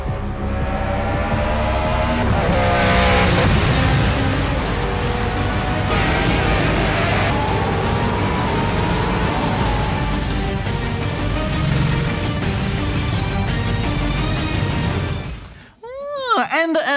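Race cars in the Project Cars racing video game, engines roaring and whining loudly and continuously through gear changes, with a brief crash-like burst near the end; a voice talks over part of it.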